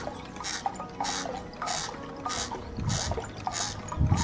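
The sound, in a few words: homemade water pump running, water trickling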